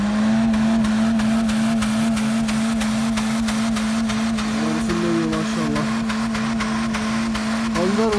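An old Suzuki Jimny forces its way through deep snow while plowing open a road, its engine holding a loud, steady drone with a rapid regular ticking running through it.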